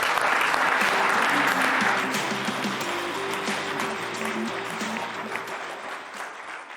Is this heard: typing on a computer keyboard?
no